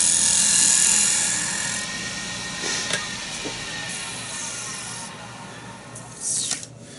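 A wood lathe spins a medallion blank while a skew chisel cuts into it, giving a bright hissing shear over a low motor hum, louder at the start and with short scraping bursts near the end.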